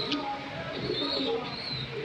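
Fancy pigeons such as Red Lahori, Mundian and Show King cooing faintly at a pigeon farm, a soft continuous murmur of bird calls with low background noise.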